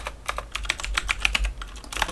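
Rapid, uneven keystrokes on a computer keyboard, close and clear, clicking steadily for about two seconds with no voices.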